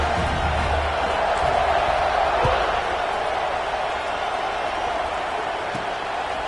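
Home crowd at a college football game roars steadily, a dense broadband cheer sustained throughout with a brief thump near the middle, loud and continuous.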